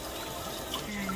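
Birds bathe in shallow water inside an indoor butterfly and nature sanctuary, giving a brief, soft, continuous splashing and trickling close by, with no other clear sounds.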